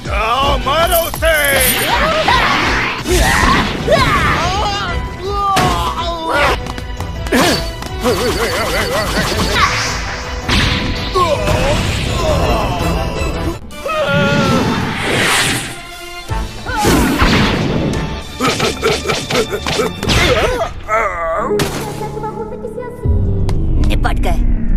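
A Dragon Ball cartoon fight, where rapid whooshes, punches, thuds and crashing impacts pile up in quick bursts. Shouting and talking voices come through over and between the blows.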